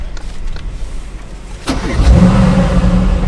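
Car engine cranking and catching at a driving lesson, then settling into a steady low idle rumble close by; quiet cabin sounds before the start.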